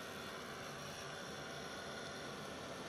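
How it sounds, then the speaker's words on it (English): A heat gun blowing steadily for heat embossing on a stamped card, a constant broadband whooshing roar with no breaks and no voices over it. "And I'm going to bring in my heat gun."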